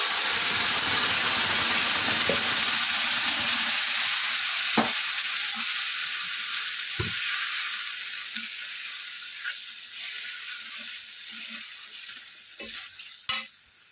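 Brinjal goes into a pan of golden fried onions, giving a loud, bright sizzle that slowly fades and settles, with a few sharp spoon clicks and stirring taps near the end.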